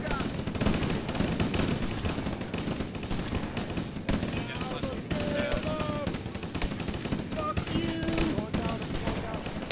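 Sustained gunfire fills an Arma 3 battle between Marines and the Flood in a library, with rapid automatic bursts and scattered shots crackling continuously beneath intermittent voices.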